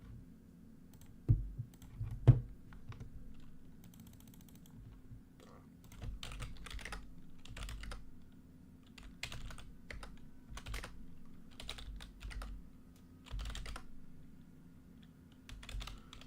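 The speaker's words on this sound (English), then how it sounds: "oh yeah, it's just typing away over here." Typing on a computer keyboard, with bursts of quick key clicks separated by pauses and a few louder isolated taps. The sound is close but quiet, over a faint steady hum.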